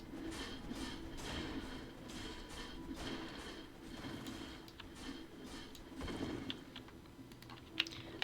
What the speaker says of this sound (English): English keyboard.